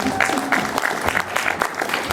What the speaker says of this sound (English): Yeah, you may applaud for that.